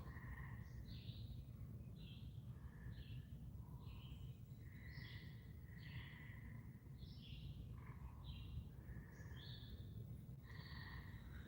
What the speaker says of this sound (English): You hear all the animal sounds going on, the sounds like frogs, crickets, whatever the hell it is, just birds